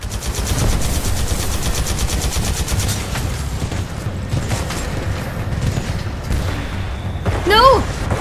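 Rapid automatic gunfire in Titanfall 2, dense bursts filling the scene with explosions and game effects, loud and close.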